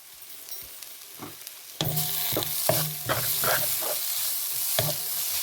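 Shredded cabbage sautés in a pan, a soft sizzle broken by a series of spatula scrapes and clinks that grow louder and busier midway, with no one speaking.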